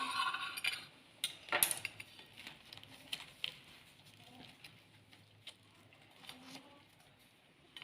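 Knife and fork clinking against a plate while stuffed tortillas are cut, a series of faint scattered clinks and scrapes, sharper at the start and sparser after.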